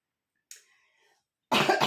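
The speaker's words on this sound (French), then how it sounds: "Excusez-moi, je tousse aujourd'hui" A single sharp cough bursts out close to the mic after a short faint sound and a stretch of near silence.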